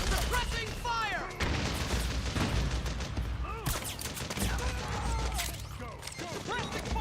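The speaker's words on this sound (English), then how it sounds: "Suppressing fire!" Rapid gunfire in a chaotic Metal Gear Solid 4 battle, with dense overlapping shots and bursts under shouting voices throughout.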